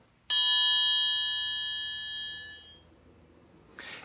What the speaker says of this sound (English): tap it on the side of the triangle to make the ringing sound